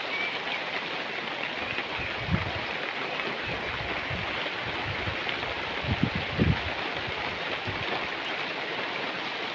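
Steady rain hisses evenly throughout, a dense continuous wash of falling water with a few faint low thumps underneath.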